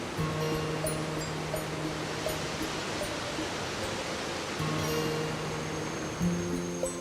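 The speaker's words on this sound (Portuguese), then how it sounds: "Num trecho rochoso desse riacho, a água construiu uma belíssima queda d'água, a Cachoeira do Jacuba." A waterfall on a rocky stream in dense forest in southern Bahia, Brazil, pours with a steady, broad rushing wash that stays even throughout, with no voices.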